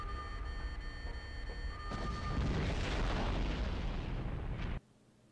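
Explosives detonate in the 2000 Blade video game, a broad roaring blast that swells over a few seconds and then cuts off abruptly, leaving a quiet hum.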